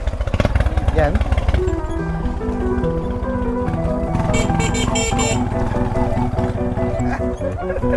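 A motorcycle tricycle rides toward a river in Tanay, Rizal, its engine droning steadily and loudly throughout, with a brief voice early on and a few higher tones near the middle.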